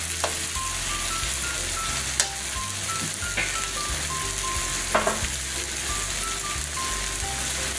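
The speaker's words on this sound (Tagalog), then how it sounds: "Ginisa pa lang yung karne, masarap na" Meat sautéing in a pan sizzles steadily and loudly throughout, with a few scrapes of stirring and no talking.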